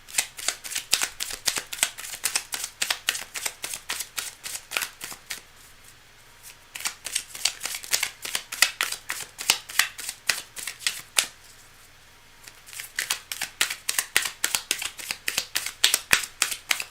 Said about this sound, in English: A nice clean shuffle, a nice clean cut.